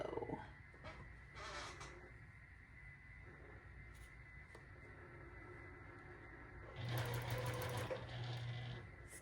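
Sewing machine stitching quilt fabric for a quilted scarecrow leaf block, a steady mechanical whir running almost throughout, louder and busier in a final burst, with faint bits of handling noise between.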